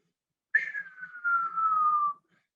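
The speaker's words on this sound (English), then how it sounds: "whistling." A single clear whistled note that slides slowly downward and holds for over a second, then stops; no talking.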